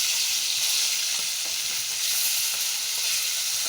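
Hilsa fish frying in a pan, a dense continuous hiss and sizzle of hot oil with faint crackles, steady and close, no voices.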